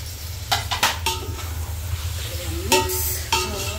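Prawns hit a hot pan for prawn biryani and sizzle steadily while a spoon stirs them, with scraping clinks and hissing bursts close by.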